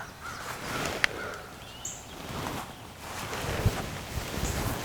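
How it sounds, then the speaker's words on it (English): A crow caws somewhere behind in spring woods during a turkey hunt, faint and distant, heard as a few short calls over steady wind and outdoor rustle. "A crow back up behind me."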